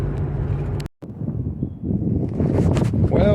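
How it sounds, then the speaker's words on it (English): Wind blowing outdoors across open ground with tumbleweeds, heard as loud buffeting rumble against the microphone, briefly cutting out, then returning as gusty roaring with some rustling. "One thing I've never been a fan of is the wind, really."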